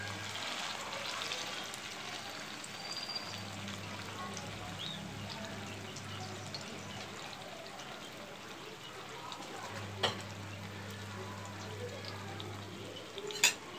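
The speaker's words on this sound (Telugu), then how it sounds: "మీడియం ఫ్లేమ్లో పెట్టి వేయించుకుంటే బాగా వేగుతాయండి" Pieces of bangda mackerel frying in a pan over a medium flame, a soft steady sizzle under a low hum, with a couple of sharp clicks and taps, close but fairly quiet and without talk.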